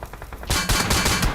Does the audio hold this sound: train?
no